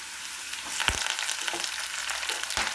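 Green chillies sizzle and fry in hot oil over a low flame for a mango and carrot pickle, a steady soft crackle with a few sharper pops and no talking.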